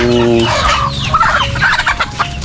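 Loud, close turkey gobbles burst out in rapid warbling calls from three turkeys, mixed with other poultry clucking nearby.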